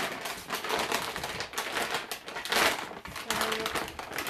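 Wet paper rustles and crinkles close by in short bursts as it is placed over food scraps in a worm bin, with crisp crackling handling sounds and no talking.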